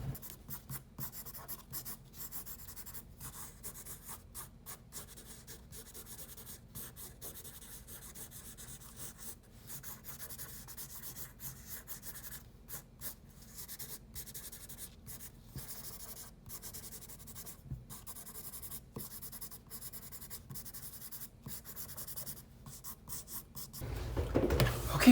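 Pencil rubbing steadily across paper while shading between the stitching on a drawing of a football, a soft continuous scratchy scrape with small strokes running throughout, close and faint, ending in a louder brief rustle.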